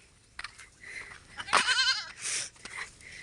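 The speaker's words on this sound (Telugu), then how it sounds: "ఇది గొర్రెలు మొత్తం దారున్నాయి ఫ్రెండ్." Several sheep in a flock bleat in short, wavering calls that overlap now and then, close and moderately loud over quiet ground noise.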